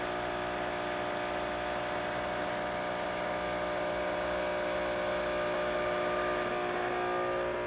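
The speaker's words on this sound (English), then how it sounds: "we're going to pull a shot here and see what we got" A Quick Mill espresso machine's pump hums steadily and evenly while pulling a shot after a full tune-up, with a constant whirring tone throughout.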